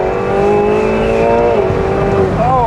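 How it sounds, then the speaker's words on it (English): McLaren 720S Spider with stiffened suspension pulling hard in second gear from 40 mph: a loud, steady engine note climbs in pitch, then drops briefly at a gear change near the end before climbing again. "Second gear pull from 40."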